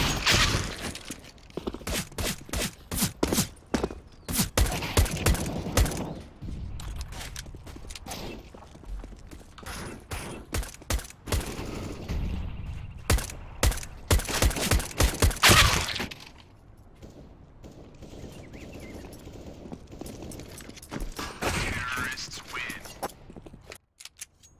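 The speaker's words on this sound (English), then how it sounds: "Acer, deagle in hand, firing a little bit too rapidly." Rapid Desert Eagle gunfire in a Counter-Strike match, a dense run of sharp, loud shots with other game sounds, followed by a quieter stretch.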